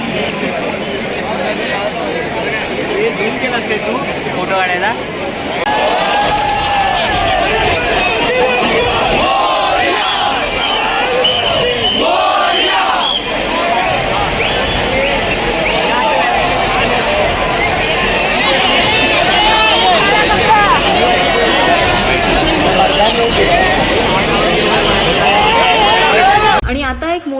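A huge, dense crowd roars and chants along the street during the Chintamani Ganesh arrival procession in Maharashtra, producing a continuous loud babble and shouting, with nearby voices talking close by over the din.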